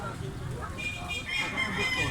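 A rooster for sale at a Filipino poultry market clucks and crows amid steady crowd noise, with people talking nearby.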